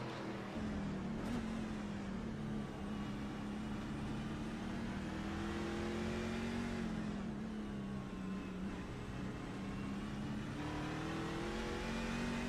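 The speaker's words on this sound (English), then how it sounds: "Let's take a ride on board around a lap here with the fastest truck here" On-board engine of the leading race truck lapping the Belle Isle road course in a truck series race, a steady loud drone whose pitch rises and falls through gear changes and corners, continuous without speech.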